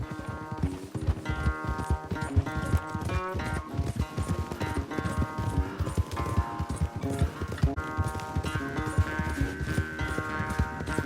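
Rapid clip-clop of a galloping horse in the Western game Red Dead Redemption 2 during a race, loud and rhythmic hoofbeats over a busy backdrop of game sound and music, no talking.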